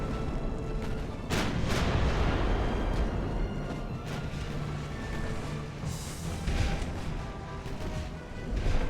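Naval guns fire repeatedly in the Ultimate Admiral: Dreadnoughts video game, a dense run of heavy booming shots and rumbling over about nine seconds, loud and close with overlapping reports.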